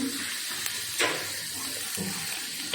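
Cardamom, cloves and cinnamon hit hot oil for a quick fish curry, producing a continuous close hiss with a brief louder surge of sizzling partway through.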